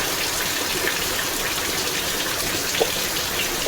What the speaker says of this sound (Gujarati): જુઓ, ઘણો વરસાદ ચાલુ થઈ ગયો છે.